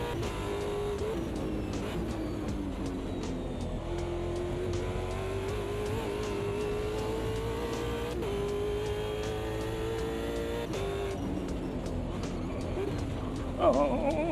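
A video game racing car engine drones and revs continuously, pitch climbing and dropping through gear changes, with faint talk underneath.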